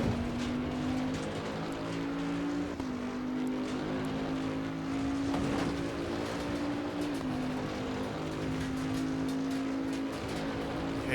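A 2020 Bentley GT3 race car engine in Assetto Corsa Competizione drones steadily at high revs on the Mount Panorama circuit. Its pitch dips briefly at two gear shifts, with no talking over it.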